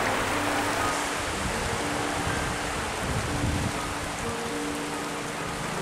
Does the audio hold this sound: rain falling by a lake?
yes